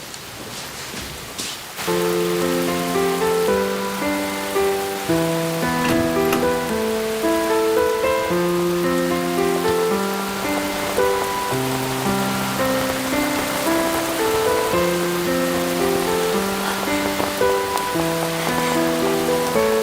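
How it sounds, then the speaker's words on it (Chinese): Heavy rain pours down steadily, a dense hiss running continuously beneath a gentle melodic music track. "下这么大的雨，在这里淋雨，会生病的。"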